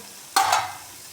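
Spice masala frying in oil for an aloo pakora curry, a sudden loud burst of sizzle and stirring scrape that swells briefly and then fades back to quiet.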